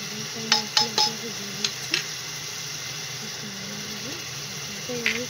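Onions browning with spices in a frying pan for daal, a steady low sizzle under a woman's speech, with a few sharp clinks of a spoon against the pan.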